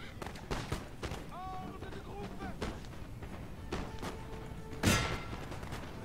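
Musket volleys crackle in the Napoleon: Total War battle game, a scatter of dull shots and thumps under in-game shouting and a voice, with one heavier burst near the end.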